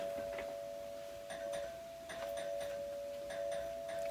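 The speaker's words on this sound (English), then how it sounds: "ring his doorbell" A doorbell rings with a steady electronic tone that holds across the whole clip, with faint tapping and light background clatter under it.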